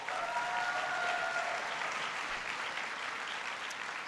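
A large audience gives a big round of applause for a speaker at a presidential farm bill event at Michigan State, with dense continuous clapping filling the hall and a few faint voices underneath.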